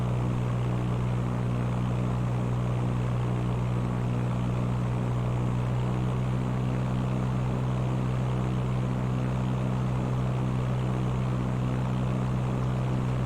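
A propeller airplane engine in the Fly!2K flight simulator drones steadily with a strong low tonal hum and a smooth buzzing whir, loud, close and unchanging throughout.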